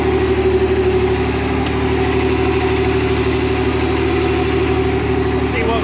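A Pontiac Fiero engine idles high while cold, its loud exhaust rumbling in a steady, close drone that fills the whole stretch without any break.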